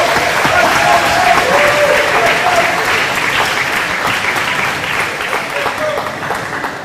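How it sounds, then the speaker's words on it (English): A banquet audience at a university athletic hall of fame induction gives loud, sustained applause. The dense clapping holds steady for about seven seconds and then eases slightly. "give him a round of applause there too"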